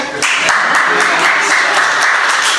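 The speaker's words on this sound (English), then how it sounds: "So everybody give a round of applause." A crowd applauding steadily, dense clapping filling the whole stretch at a constant level with no pauses.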